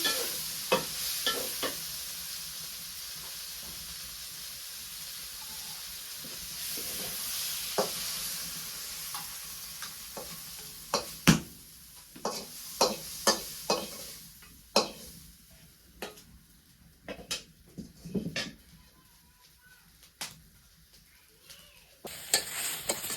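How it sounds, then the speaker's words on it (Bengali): Water lily stems fry in a wok, with a steady hiss of sizzling oil at first, then increasingly frequent sharp scrapes and knocks of a spatula stirring against the metal. "শাপলা ভাজি হয়ে গেছে গা, এখন আমি নামিয়ে নিই"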